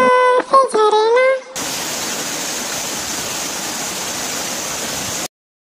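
A waterfall roars as a steady, loud, even rush of falling water for about four seconds, following a short spoken phrase, then cuts off abruptly.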